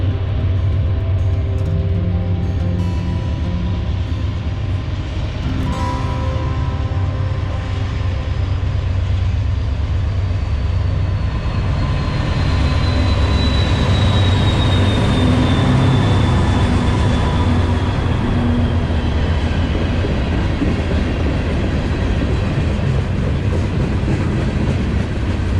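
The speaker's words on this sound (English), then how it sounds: "we're here on a day when there's another train coming" A train rumbles past a railroad museum in North Alabama, a loud sustained roar with clattering wheels and a rising-falling horn-like whine, continuous throughout with no voices.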